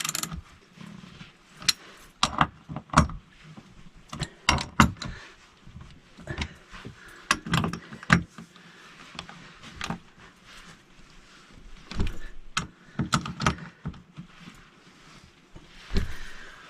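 Nuts being tightened under a seat post, heard as a string of sharp, irregular metallic clicks and clunks that come up close and fairly loud, with brief pauses between bursts.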